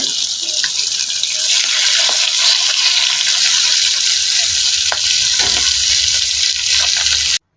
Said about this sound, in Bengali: একটা ইলিশ মাছ কেটে নিয়েছি, একটু হালকা করে ভেজে নিব